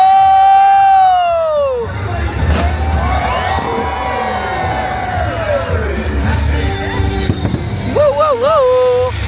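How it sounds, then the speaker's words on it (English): Fireworks thump and crackle at a Disneyland Halloween fireworks show, amid a crowd's murmur and cheers, with music swelling over them and a few sharp bangs ringing out. "This was the Halloween Screams fireworks show, centered around the villains of Disney."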